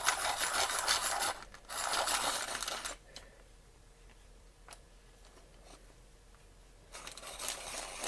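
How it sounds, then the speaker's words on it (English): A Prismacolor cerulean blue colored pencil being sharpened gives a steady rasping grind in two bursts, pauses with small clicks, then grinds again at the end. "the next colour I've got is cerulean blue and it needs sharpening"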